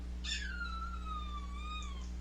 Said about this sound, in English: Yes, you hear a little kitten in here.